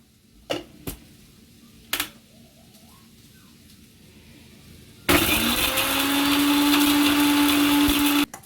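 A kitchen mixer grinder blending salted masala for paneer curry, starting abruptly after a few light clicks and knocks and running as a loud, steady whirring roar for about three seconds before cutting off.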